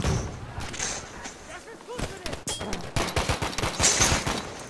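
Rapid gunfire from a video game shooter rattles in fast automatic bursts and sharp single shots, loud and close, with heavy thuds and a brief pause before the firing intensifies again.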